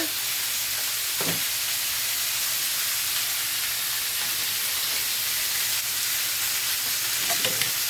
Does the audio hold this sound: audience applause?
no